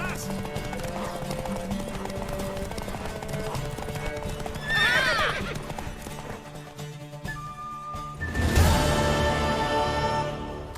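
In The Witcher 3, a horse gallops with rapid clip-clop hoofbeats while neighing twice, a whinny near the middle and a louder one near the end, over game music and character voices.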